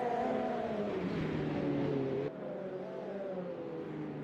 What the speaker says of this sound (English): Oh, it's a beautiful sound, that car. It's a lot of turbocharged power.